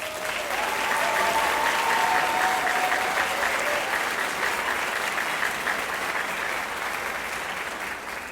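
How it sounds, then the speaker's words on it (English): An audience applauds honor band students, sustained loud clapping from a large room that holds steady and tapers slightly toward the end. "So, give them another round of applause, please."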